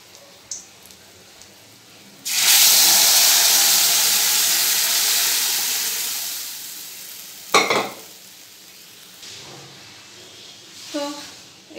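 Lentils poured into hot oil with nigella seeds, green chilli and bay leaf set off a loud, sudden sizzle that slowly fades, followed by a few clatters of utensils.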